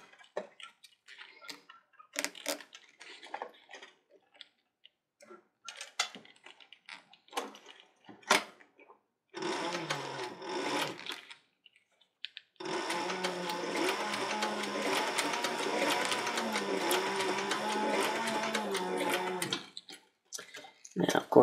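Sewing machine stitching loops on a leather bandolier for 45-70 cartridges, running in two steady bursts of dense mechanical whirring, a short run then a longer one, after quieter scattered handling sounds.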